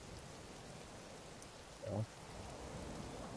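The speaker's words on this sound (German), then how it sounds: "Ihr seht, der Regen, das ist ein bisschen anders" Steady rain falls in the survival video game The Forest, a soft even hiss filling the whole stretch, with a brief louder bump and a single short spoken word near the middle.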